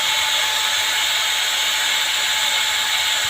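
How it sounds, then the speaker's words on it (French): An electric saw powered by a Bluetti AC200 Max power station runs at a steady, loud, high-pitched whine with a constant hiss, close by and with no talking. "Donc là, je mets en route la scie."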